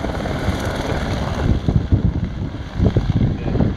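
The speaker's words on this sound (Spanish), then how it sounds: "Ahí vamos a ver cómo despega a piques de caer." A small plane takes off at a WRC rally in the Algarve, Portugal, a loud rough propeller engine drone with wind buffeting the microphone, pulsing unevenly close by.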